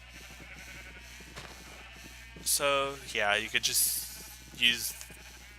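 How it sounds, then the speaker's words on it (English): Sheep bleat in short wavering calls from a mob spawner in Minecraft, a few bursts rising over a steady low hum while someone talks casually alongside. "it's always going to spawn white sheep"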